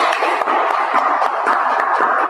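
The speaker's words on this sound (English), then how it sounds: "Big round of applause to everybody." Applause from an audience at a Toastmasters club meeting in Karachi, a dense steady wash of many hands clapping that fills the room without letup for the whole stretch.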